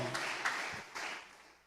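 Church congregation at a preaching service breaking into loud applause, a dense wash of clapping that swells briefly and then tapers off over under two seconds.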